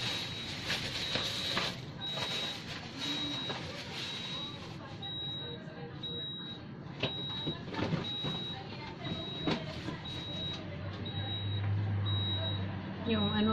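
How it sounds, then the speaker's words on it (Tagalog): Refrigerator door-open alarm giving a steady series of short, evenly spaced beeps through the whole stretch, fairly faint beneath people talking close by in a home kitchen. "yung refrigerator, tingnan mo yung alarm, nag-alarm siya pag hindi nasara"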